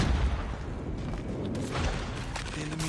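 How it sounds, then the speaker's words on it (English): Airstrike explosions in the mobile shooter Call of Duty Mobile, a dense run of heavy booms and rumbling blasts filling the whole stretch, loud and continuous with gunfire-like crackle over the top. "Friendly airstrike incoming."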